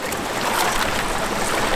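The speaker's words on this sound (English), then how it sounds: "push a John boat through the ice" Continuous broadband scraping and rushing noise, close and steady, as a johnboat hull is pushed grinding and sloshing through broken ice and water at a pre-dawn desert duck hunt.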